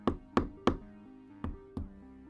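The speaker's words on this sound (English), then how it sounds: "It's good to use a hammer on these." Five sharp metallic taps in an uneven rhythm, close and fairly loud, each with a short ringing tail, as a hammer drives wall anchors into a closet wall.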